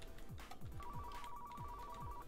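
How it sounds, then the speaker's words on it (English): A phone ringtone chirps in a steady repeating pattern through the second half, fairly faint, over a bed of low, sweeping computer-game sounds from a car mechanic simulator. "Shut up, phone."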